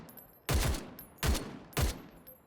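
Three sharp, loud gunshots ring out about half a second apart in the battle royale shooter Omega Legends, each with a brief booming tail, over quiet game ambience.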